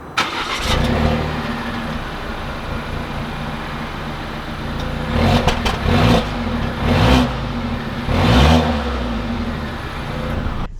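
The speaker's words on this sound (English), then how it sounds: "let's take this XC90 out and see how it drives" A 2020 Volvo XC90 Inscription SUV idles steadily up close, then its engine swells in several short revving bursts as it pulls away, with no voices.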